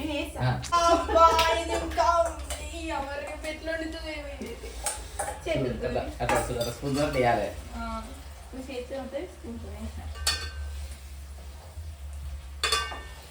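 Food is stirred in a cooking pot with scraping and clinking against the metal and a faint sizzle, heard beneath frequent chatter between several voices.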